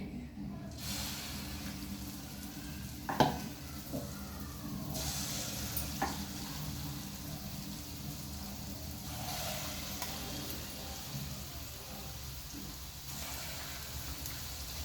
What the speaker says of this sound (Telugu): ఆ తర్వాత మీడియం పెట్టుకొని మంచిగా కాల్చుకోవాలి